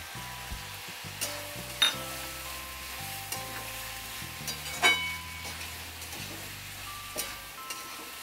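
Tomato sabji with coarsely crushed roasted peanuts stirred in a pan, a soft continuous sizzle punctuated by occasional spoon taps and scrapes against the pan, close and quiet, without speech.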